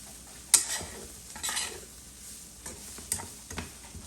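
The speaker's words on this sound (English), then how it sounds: "Mix it all up in there." A utensil stirs keto bacon and cauliflower with green onion in a pan, making soft scraping and clicking strokes close by, with a few sharper taps between quieter moments and faint sizzling underneath.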